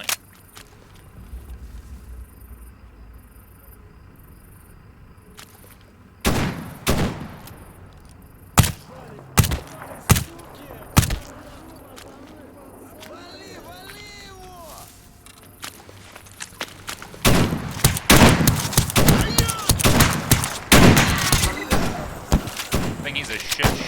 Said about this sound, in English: I'm going to switch to single fire here, so I'm not at risk of using my ammo up